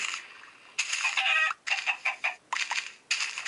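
Several short bursts of chicken clucking from Minecraft farm birds, close and moderately loud, in choppy separate calls with brief gaps between them.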